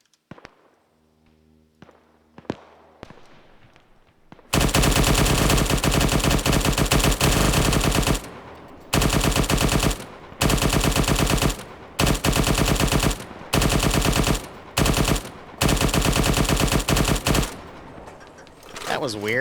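Rapid bursts of automatic gunfire from a scoped gun in a video game ring out loud and close in several long volleys with short pauses between them, after a few quieter clicks at the start.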